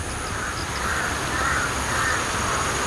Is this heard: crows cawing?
yes